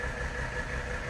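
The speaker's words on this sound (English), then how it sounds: "Classic Mercedes diesel sound." A 1982 Mercedes-Benz 300SD diesel idles steadily close by, a continuous low, even rumble with no talking over it.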